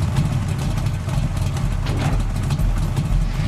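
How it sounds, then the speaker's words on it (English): A 1970s V8 muscle car engine throbs with a loud, steady low rumble close by, holding an even growl throughout with no clear rise and fall of revs. "He's revving his V8 muscle car from 1970s."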